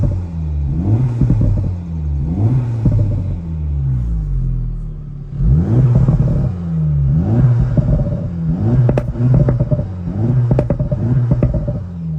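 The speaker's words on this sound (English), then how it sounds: "There you go, and you can also hear the turbo a little bit." A 2024 Acura Integra Type S turbo engine revs repeatedly in loud, close bursts, each rise and fall in pitch followed by quick blips later on, with a rumbling idle between.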